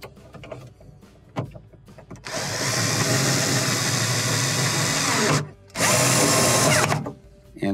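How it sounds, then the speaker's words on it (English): A power drill drives the front screws into a Hotpoint refrigerator during a repair. A few handling clicks come first, then a long, loud, steady whir, a short break and a second burst, all up close. "Now we can install the front screws."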